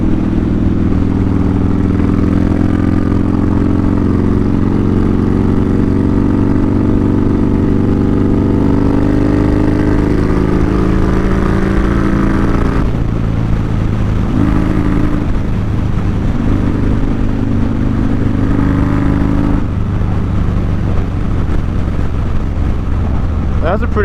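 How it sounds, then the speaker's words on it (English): Motorcycle engine droning steadily and loud while riding, with throttle changes and brief dips in the roar around the middle and near the end, heavy wind and road noise throughout. "I can hear the crack of the throttle"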